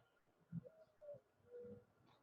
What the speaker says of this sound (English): I hear this little dove cooing